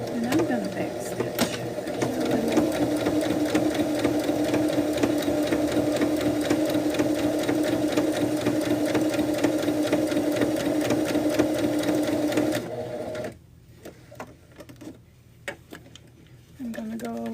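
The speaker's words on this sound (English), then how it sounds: "Slow and easy. And I'm going to back stitch." An old sewing machine back stitching a bag runs steadily for about twelve seconds with a close, even whirring hum, then stops, leaving soft handling noises before it briefly starts up again.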